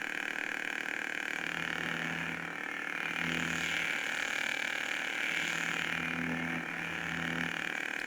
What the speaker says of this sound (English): if you listen to just the hum alone, you can hear some deep hums come in